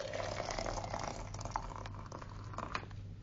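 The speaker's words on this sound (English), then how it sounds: "you get the hot water and you just dump it on" Hot water poured from a kettle into a teapot over an Earl Grey tea bag, a steady close splashing and gurgling fill that runs throughout with small bubbly patters.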